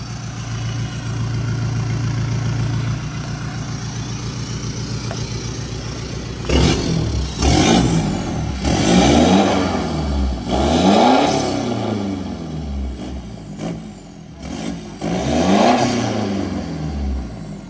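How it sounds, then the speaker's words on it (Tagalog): Toyota Fortuner turbo engine fitted with a JD Mufflers straight-pipe exhaust, loud and close: a steady idle, then several hard revving bursts rising and falling in pitch with turbo whoosh between them. "Yo, rinig na agad yung turbo."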